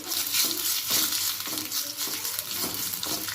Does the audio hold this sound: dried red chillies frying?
yes